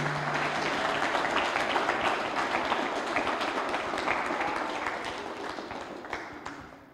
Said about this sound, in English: Can you all please give them a round of applause?